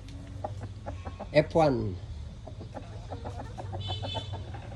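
Dark mahogany Rhode Island Red hens, seven months old and laying, cluck in short bursts with one louder squawking call midway. A person talks over them.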